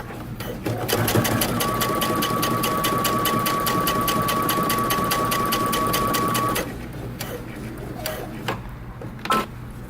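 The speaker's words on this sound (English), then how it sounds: "now I'm going to create a second row of stitching about 1/8 of an inch from the top" A sewing machine runs a steady, fast rhythmic stitch while top stitching a second row on a pair of jeans, a continuous close mechanical hum lasting several seconds before stopping, followed by quieter handling noise.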